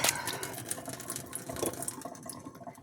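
Water runs steadily from a filter tap, a close, continuous splashing flow that stays alone, with no voices, for about three seconds.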